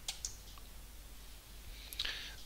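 Mouse clicks on a search button in course-administration software, a few sharp separate clicks, with a quick double click near the end, close and clear against a quiet room.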